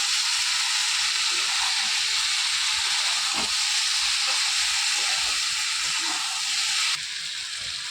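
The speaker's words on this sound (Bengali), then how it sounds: "এবার ভালো করে নাড়াচাড়া করে নিন।" Vegetables sizzle and hiss steadily in a hot frying pan as they are stirred, a loud continuous frying noise with occasional soft scrapes, no voices.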